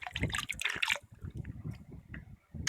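Water trickles and splashes steadily nearby in an underground karez channel in Balochistan, a brief louder gush at the start settling into a softer, continuous flow.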